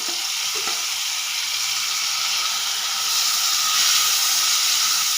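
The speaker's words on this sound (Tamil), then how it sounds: "தக்காளியும் கொஞ்சம் நல்லா வதங்கட்டும்." Tomatoes and onions frying together in a pan make a loud, continuous sizzle and hiss that swells slightly toward the end, with no voices.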